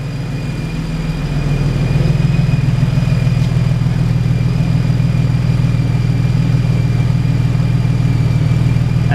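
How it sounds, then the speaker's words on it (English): A Jeep TJ with a 4.6 stroker engine and Banks exhaust idles steadily, a deep, loud low rumble that holds constant throughout with no voices over it. "That Banks exhaust hooked up under there."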